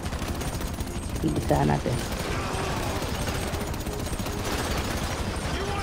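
Rapid gunfire during a GTA 5 mission, a steady rattling stream of shots running throughout, with a voice speaking briefly over it.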